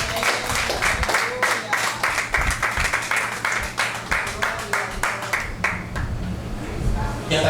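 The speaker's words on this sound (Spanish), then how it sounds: "Dale un fuerte aplauso a Cristo." A church congregation claps during a Spanish-language sermon, a rhythmic run of fairly loud, evenly spaced claps that sounds like a few people or a small group, with low background murmur and voices beneath the clapping.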